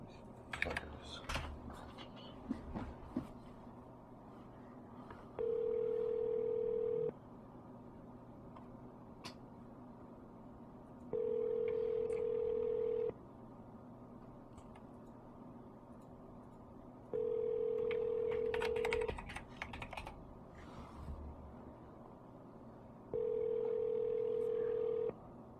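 A phone line being dialed to call back a number: a steady tone runs in the background while four long beeps come at regular intervals, with some clicks and typing early on.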